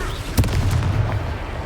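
Confringo fire spell explosion in Hogwarts Legacy, a single deep booming blast with a rumbling tail over loud game ambience, heard alone without talking.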